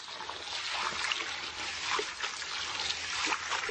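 Water pours steadily into a bucket for washing seeds, a soft, continuous trickling splash heard faintly from nearby.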